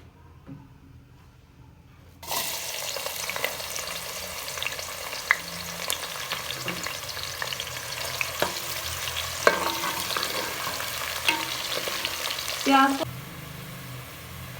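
After a quiet moment, a loud, steady sizzle of a large onion frying in hot oil begins, with occasional pops and spatters throughout.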